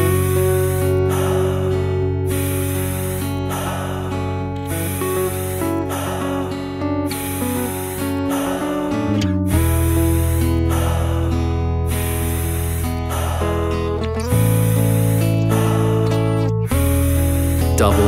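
Rapid, forceful, rhythmic breaths during a breathwork session, repeated puffs riding over a loud sustained music bed for the whole stretch.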